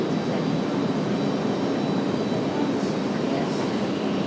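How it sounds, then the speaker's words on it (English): A Breeze Airways Airbus A220 jet comes in to land, its engine roar loud, broad and steady throughout without a break. "Breeze Airways up next. An A220."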